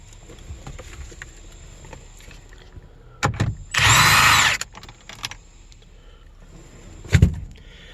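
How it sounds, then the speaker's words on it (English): A power tool works the bolt on a car steering wheel while it is removed for an airbag clock spring replacement: one loud, sustained whir of about a second, with short clunks and knocks before and after it. "And it looks like from here we can unscrew the steering wheel."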